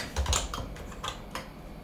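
Fingers type on a computer keyboard while writing GLSL shader code, giving a short burst of close, crisp key clicks in an uneven rhythm.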